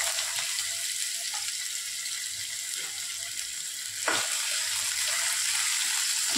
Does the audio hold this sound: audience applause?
no